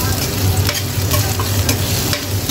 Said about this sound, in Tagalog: Ayan, igisa lang po natin ito.